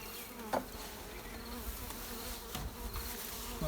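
Honeybees at an apiary with strong colonies, a dense continuous buzzing hum close by, with a couple of brief knocks over the drone and no talk.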